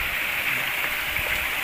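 Water sprayed by a six-blade propeller on a 1 HP boat motor gives a steady, close rushing splash, a continuous broadband hiss with no pauses.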